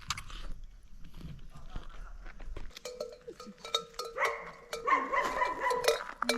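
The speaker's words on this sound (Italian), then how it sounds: "tranne un cane che abbaia" A dog barks near a picnic area at a Sardinian campsite, with several sharp, fairly close barks rising from about three seconds in over quiet outdoor ambience.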